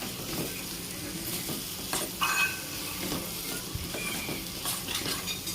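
Onion masala sizzles and is stirred in a pan for a Tamil mutton gravy, a steady close crackle with scraping strokes of the spoon and no talk.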